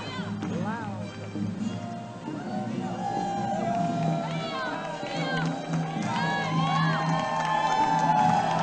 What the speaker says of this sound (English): And we've got a lot of noise now from the crowd.